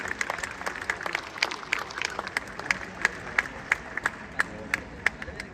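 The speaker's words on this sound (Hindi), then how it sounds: "बहुत हल्की तालियां ग्रेटर नोएडा में बजती हैं" Audience applause at an annual day celebration attended by a VIP guest, a steady patter of many hands clapping with sharper individual claps standing out, moderately loud and sustained throughout without talk.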